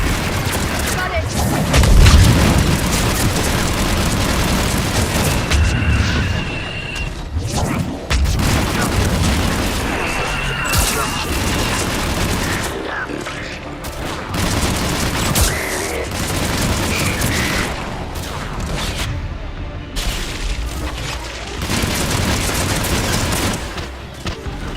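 Missile explosions in the Mass Effect 3 video game, heavy booms and rumbling blasts mixed with bursts of gunfire across a long loud battle, with voices heard at times.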